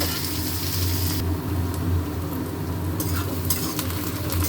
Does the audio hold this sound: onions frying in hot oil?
yes